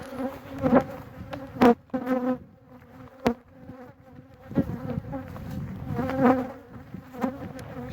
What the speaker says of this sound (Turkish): Arı iyice saldırganlaşıyor.